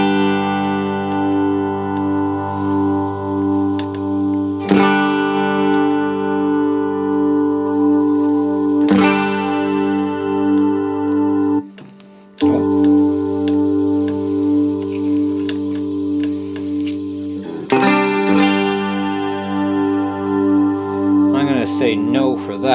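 Yamaha THR10II guitar amp playing sustained electric guitar chords through a chorus effect, shimmering and continuous with a few sharp strums and a brief dip near the middle, no talking.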